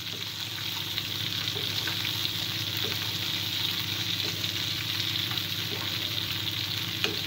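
A trout or salmon fillet fries in a pan over lowered heat, giving a continuous dense sizzle with faint scattered pops, steady and close, with no voices.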